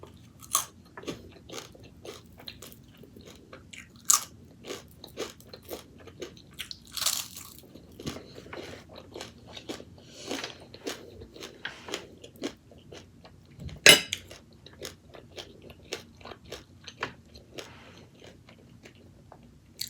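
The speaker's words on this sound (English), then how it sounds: "This is not like the crunch that you get from when you eat pork belly skin." Crunchy roasted pork skin bitten and chewed up close, a steady run of sharp crackling crunches with a few louder bites, no talking over it.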